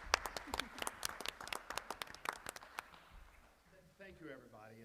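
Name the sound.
audience applause at board meeting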